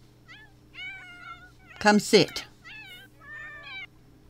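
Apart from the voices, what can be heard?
cat meowing in video game The Sims 4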